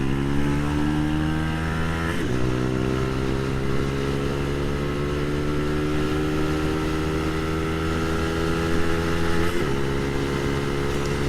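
A Brixton BX 125 X motorcycle engine revving hard while riding, with rising whine and two clear gear shifts, steady loud drone throughout with wind noise and no talking.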